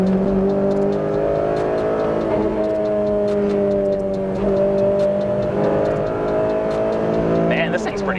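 Honda Civic Si with a K24 engine swap pulling hard from inside the cabin, a loud steady engine drone rising in pitch through acceleration, with a shift near the end and someone talking over it.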